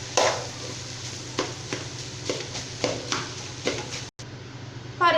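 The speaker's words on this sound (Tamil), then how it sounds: "இந்த மாதிரி குத்தி விட்டுட்டு கிளறி விட்டுக்கலாங்க" Cooked sevai being broken up and stirred in a pan, a few separate scraping strokes at an unhurried pace over a low steady hum, close and moderately quiet, without voices.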